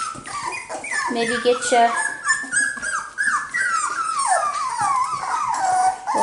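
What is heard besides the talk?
cockapoo puppies whimpering and yipping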